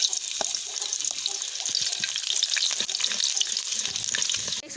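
Garlic cloves fry in melted ghee in a kadai, giving a steady, close crackling sizzle with light stirring and small splashes throughout, and no voices.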